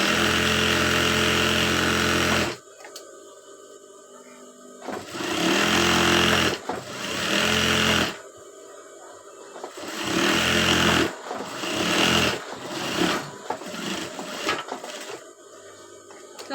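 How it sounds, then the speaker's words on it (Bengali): A sewing machine runs a second line of stitching half an inch from the first along a petticoat seam, in several loud, close bursts of rapid stitching separated by short pauses. "আমি হাফ ইঞ্চি দূরে থেকে আরেকটা সেলাই দিয়ে নিব"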